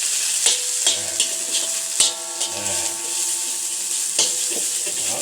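Ingredients stir-fried in a little oil in a pan in a Thai backyard kitchen while preparing steamed field rat in banana leaf, with continuous sizzling and repeated scraping and stirring strokes close by, no talking.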